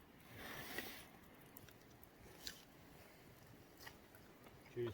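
Fried sambar deer tongue being chewed outdoors on a windy wilderness hunt in Australia: soft, squishy, rubbery mastication, faint and close, partly masked by a steady wind rush.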